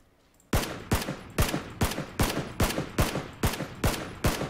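A rapid run of sharp, loud gunshots in the video game Battlegrounds fires in a steady rhythm after a brief quiet start, with about ten evenly spaced blasts, each trailing a short echo.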